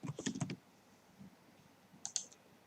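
Keys clatter on a computer keyboard in two quick bursts of typing, close and crisp, separated by a quiet pause with a faint tap in between.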